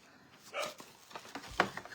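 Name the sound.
dog barking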